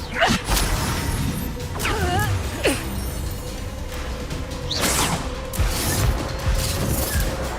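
Spell combat in Hogwarts Legacy with Levioso cast among other spells, a string of whooshing magical casts, whip-like swishes and crashing impacts spread across the clip, loud and busy.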